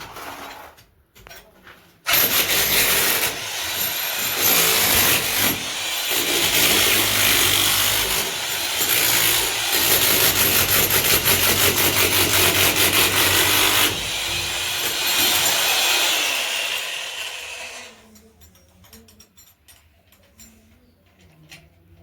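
A power cutter slices chases into a bedroom wall for pipes, a loud, harsh grinding whine that starts abruptly after a few faint knocks, runs continuously with slight changes in pitch for about fifteen seconds, then winds down.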